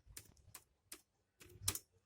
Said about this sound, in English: First of all, I will type the heading here